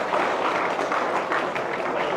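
Steady, dense applause from an audience at a Rajyogi gathering, a loud unbroken wash of many hands clapping for two people, with no voices over it.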